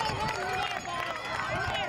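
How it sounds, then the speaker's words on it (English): A crowd at a boys' cross country race in New York City cheers on a runner near the finish, producing a dense, excited roar of voices that is loud and continuous throughout. "The crowd cheering him on"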